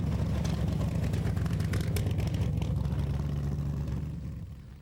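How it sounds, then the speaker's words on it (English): A '69 Yenko SC Camaro with a big-block V8 idles close by in a low, steady, lumpy rumble that fades slightly toward the end. "It's the only car that I know that I have fun in just idling it."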